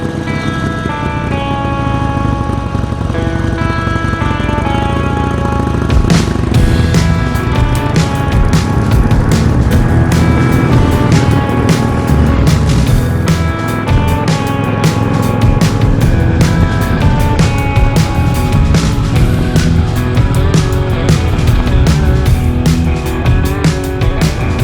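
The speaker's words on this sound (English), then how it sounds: "Let's jump on the motorcycle and take her for a zip." Harley Davidson Sportster motorcycle fitted with a new windscreen and tail bag riding on a spring road, its engine and wind noise a steady loud drone that fills the whole stretch with no talk.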